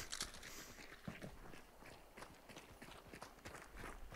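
Horse hooves clip-clop in steady walking footfalls in the video game Hunt: Showdown, soft and somewhat distant against a quiet background.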